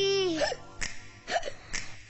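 Repeated hiccups in a Hindi film song come as short vocal yelps on a rhythmic pattern. A sung note opens the passage, and sharp percussive hits and music play underneath.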